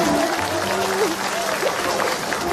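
A studio audience at an Indonesian comedy talent show applauding a singer, a dense continuous burst of clapping, close and loud, with voices audible over it.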